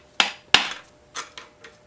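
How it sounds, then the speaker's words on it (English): Hammer blows striking the crankshaft of a Briggs & Stratton Model Y engine during a rebuild: two sharp, close metallic strikes followed by three lighter taps, each short and ringing briefly. "hit the crank with a hammer back here, and the crankshaft actually pushes it out evenly"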